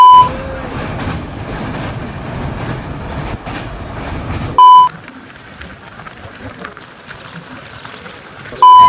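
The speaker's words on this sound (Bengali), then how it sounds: "পুরা স্পিডে ট্রেনটা গেতেছে" A train runs at full speed on a long multi-day journey to another state, giving a steady rolling rumble from inside the carriage that drops quieter midway, with short electronic beeps at the break and again near the end.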